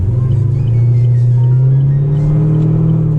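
Chevrolet Camaro SS V8 fitted with a Pedal Commander throttle controller, a loud, close engine rumble that rises steadily in pitch as it revs under light throttle, holding strong and continuous throughout.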